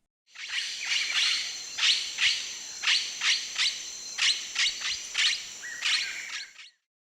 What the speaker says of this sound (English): Blue-headed parrot.